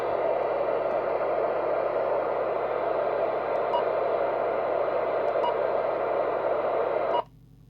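A Lafayette Venus CB radio receiver with squelch off hisses with steady broadband static for about seven seconds, a few faint ticks over it, before cutting off abruptly to near silence.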